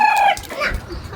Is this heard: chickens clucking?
yes